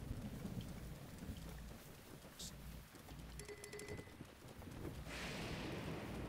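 Steady rain hisses over a low rumbling thunderstorm with lightning in Zelda: Breath of the Wild, a dense, faint wash of noise broken by a couple of sharper crackles and no voices.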